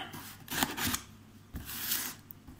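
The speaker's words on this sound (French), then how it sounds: "le fameux cutter à bout rouillé, qui fonctionne très bien d'ailleurs et qui m'aide pas mal dans les ouvertures de colis" A box cutter with a rusty tip slices open a cardboard parcel of seashells, with two bursts of scraping and tearing separated by a short pause, close and fairly loud, with no talking.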